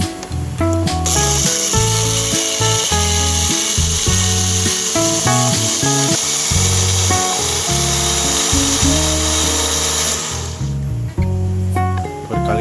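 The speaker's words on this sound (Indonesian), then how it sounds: "Oke, kita akan blend." A small blender grinds artemia feed, its motor whining loudly and steadily with a rattling, uneven texture before it stops near the end.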